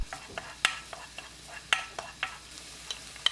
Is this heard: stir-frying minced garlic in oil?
yes